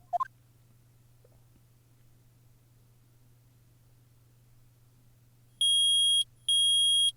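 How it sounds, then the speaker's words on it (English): Two loud electronic beeps from a metal detector in the Phoenix Wright Trilogy video game, in quick succession, each a sustained synthetic tone, after a long quiet stretch with a faint hum. "I permit the use of the metal detector."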